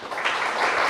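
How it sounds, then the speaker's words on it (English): A crowd at a vegan fair gives a round of applause for a councillors panel, a short, steady burst of many hands clapping heard alone. "please do give our councillors and participants here a big round of applause"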